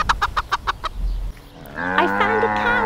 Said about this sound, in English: Hi, little chickens. Little chickens, chickens. Chickens, come on,